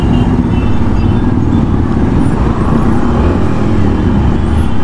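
Dense city traffic heard from a 2021 TVS Apache 160 4V motorcycle while riding, a loud constant roar of engines and road noise with a faint high whine.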